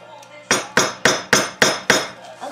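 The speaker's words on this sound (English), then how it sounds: "Oh, you have to hammer it. Yeah, I just gotta chisel some of it off." A hammer strikes a chisel against red brick in a steady rhythm of six or seven sharp, loud metallic blows about a quarter second apart, close by and with no talking.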